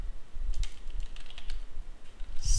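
Computer keyboard being used to type plugin code, with quick, irregular bursts of close key clicks and taps, followed by a brief louder clack near the end.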